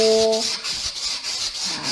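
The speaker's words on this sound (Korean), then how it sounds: "이 결대로 이렇게 살살살 문지르면 연필 자국이 다 없어질 거예요" Sandpaper is rubbed gently along the grain of a wood piece to erase pencil marks in a woodcraft class, giving a soft, continuous rasping swish after a brief tone at the start.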